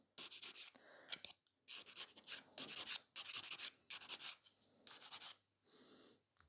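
Nail file worked across a fingernail with even pressure, a series of close, crisp rasping strokes in quick bursts separated by short pauses.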